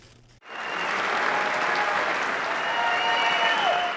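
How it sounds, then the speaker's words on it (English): Applause fills a joint session of the US Congress for Israeli Prime Minister Benjamin Netanyahu, a sustained, dense wash of clapping that swells in after a brief pause and holds steady. "Israeli Prime Minister Benjamin Netanyahu was greeted by applause as he spoke to a joint session of Congress Wednesday"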